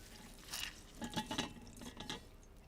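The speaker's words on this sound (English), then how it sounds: "I want to give it a squeeze to get any excess water out" Cooked kale squeezed by hand to press out excess water, giving a few soft wet squelches and drips in short bursts, close and fairly quiet, with no talking.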